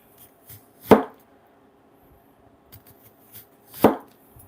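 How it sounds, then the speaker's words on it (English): A knife cuts an onion into rings on a board: two crisp, separate chops about three seconds apart in a quiet room, with faint small taps between them. "get your onion. And then I go, about a 1/4 inch. And try to cut it nice and straight."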